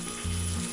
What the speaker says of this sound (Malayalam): ഇനി ഇത് ചിക്കൻ വറുത്ത എണ്ണയിൽ ഇട്ടിട്ട് തന്നെ ഫ്രൈ ചെയ്യാം.